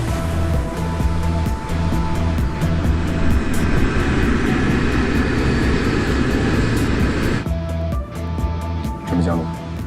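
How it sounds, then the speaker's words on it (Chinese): A passenger airliner's engines on landing approach give a steady, loud broadband drone with a low hum throughout, and voices talk over it. "飞机马上就要降落了"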